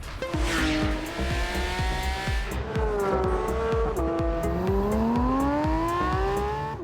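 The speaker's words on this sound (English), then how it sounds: "The car sounds superbly, especially from the inside. All mechanical sounds are clearly audible" A Porsche GT3 engine revs hard and climbs through its range, loud and close, with rising whine and mechanical growl throughout.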